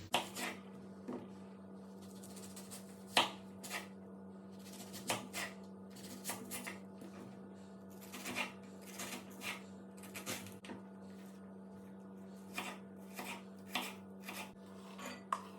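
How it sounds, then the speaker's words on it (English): A knife chops onion into small pieces for Romanian sarmale, making sparse, irregular taps on a cutting board at close range over a low, steady background hum. "Next step is cutting the onion into small pieces."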